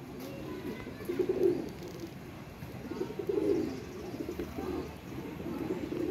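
Soft, low cooing of dub pigeons rises in a few rounded bursts over a steady murmuring background, somewhat close and moderately loud.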